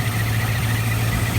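A Rover SD1 V8 engine idles during tuning, a steady low throbbing hum close up, continuous and even over the whole short stretch.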